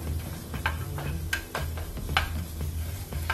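Onion, ginger, green chili and curry leaves sauté in a pan with a steady low sizzle, while a spoon stirring against the pan adds faint scattered ticks and scrapes.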